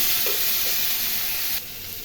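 Onion, garlic, ginger and chili sizzle and hiss steadily in hot oil in a pan while a hilsa curry with eggplant is cooked, a dense frying crackle that drops slightly in level near the end, with no talking.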